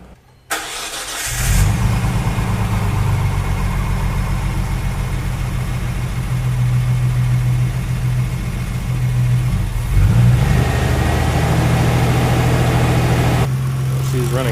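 A rebuilt Nissan RB26 engine cranks and fires after a second of quiet, then settles into a loud steady idle with a brief rev swell around ten seconds, close and without talk.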